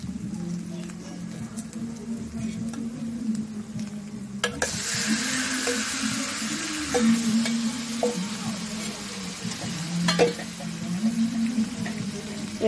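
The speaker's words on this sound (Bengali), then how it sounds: "এবার মাংসটা দেবো।" Mutton dropped into a hot pan of fried onions and stirred, a loud, bright sizzle that surges partway through over steady scraping and clinks of the spoon, close up and with no speech, while cooking mutton kosha.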